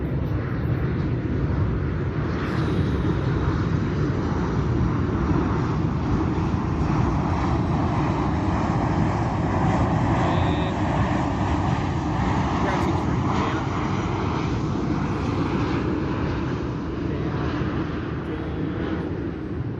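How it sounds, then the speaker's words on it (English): A fixed-wing airplane passes overhead during a home lockdown yoga session, a steady broad engine roar that holds loud and continuous for about twenty seconds with a slow sweeping tone. "Plane going over the top."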